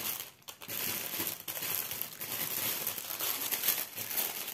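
Plastic packaging of a cross-stitch kit being opened, close crinkling and crumpling with a few sharper tearing rustles over several seconds.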